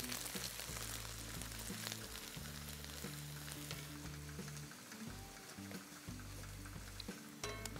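Garlic stirred and frying in a pan for garlic pepper rice, a steady loud sizzle with scraping stirs throughout, accompanied by a continuous low tonal hum.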